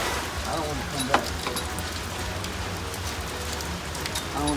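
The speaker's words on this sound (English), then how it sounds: "The rain kept dripping down." Rain patters steadily on a truck and its sunshade, a continuous close hiss of drops with a few sharper taps, while someone seems to speak faintly underneath.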